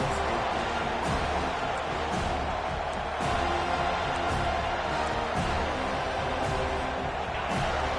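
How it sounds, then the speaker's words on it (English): Home crowd in a College Football 25 video game stadium roars steadily through the whole stretch as the defense tries to get off the field on third down, a dense, continuous wash of noise with no clear breaks. "Here comes this home crowd as the defense tries to get off the field on third down"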